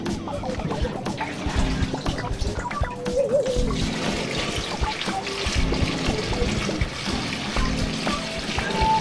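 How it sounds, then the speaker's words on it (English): Homemade biodiesel, thin like water, is decanted from one container to another outdoors, a continuous trickling pour with scattered splashes and clunks, heard close and moderately loud. "all I do is decant it"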